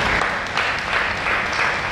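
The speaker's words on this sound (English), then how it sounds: "Let's clap for Dr." Audience applause at a commendation service for a late prince and doctor, a steady wash of many hands clapping that carries on throughout at fairly high level with no pauses.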